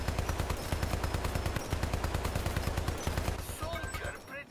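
Rapid automatic turret gunfire in the video game Hypercharged Unboxed, a dense continuous rattle of shots that holds steady for about four seconds, then thins out and stops, with a few electronic game effects near the end.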